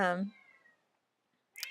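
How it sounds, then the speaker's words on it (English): A single close cat meow rings out briefly, followed by near silence and then a short burst of another sound. "Sorry, that's my cat."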